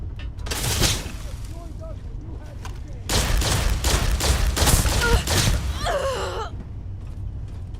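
Loud, dense bursts of gunfire ring out in the video game Starfield, with rapid volleys and blasts over a steady background and a short high-pitched trill near the end.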